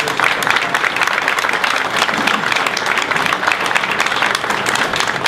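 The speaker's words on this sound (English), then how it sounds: "Give them a great round of applause" Loud, sustained applause from an audience at a Rye Republicans gathering, many hands clapping in a dense, even roar that holds steady for several seconds without speech.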